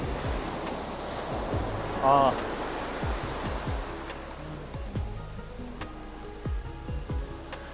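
Cold Atlantic waves wash onto a beach at Maspalomas in January with a steady rushing surf and repeated soft breaking swells, while a voice speaks briefly in the middle.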